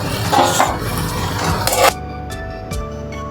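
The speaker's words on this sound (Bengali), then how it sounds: "দিয়ে ভালো করে আমি নেড়ে নিচ্ছি" Shrimp and drumstick curry is stirred in a pan, with close scraping and clattering of a utensil against the metal for a couple of seconds, then a few sharp isolated taps over a quiet background.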